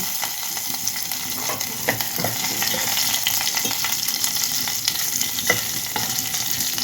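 Loud, steady sizzling of lentils, dried red chillies, curry leaves and garlic frying in hot oil, continuous throughout, with occasional faint crackles and no voices.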